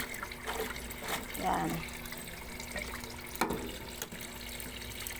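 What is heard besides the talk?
weak tap water filling a washing machine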